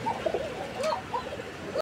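A pair of sky-blue Rajgolla fancy pigeons coo close by, a string of soft, wavering rolling coos over a faint background hiss.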